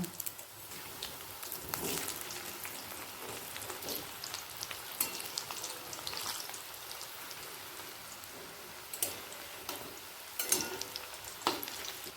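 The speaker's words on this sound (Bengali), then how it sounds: "একটা দিক ভাজা হয়ে গেলে অপর দিকটাও ভেজে তুলে নেব" Fish roe fritters frying in oil in a pan, giving a continuous crackling sizzle with scattered louder pops and occasional spatula scrapes, close and steady without any talking.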